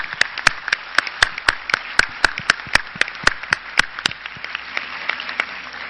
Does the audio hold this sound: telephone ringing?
no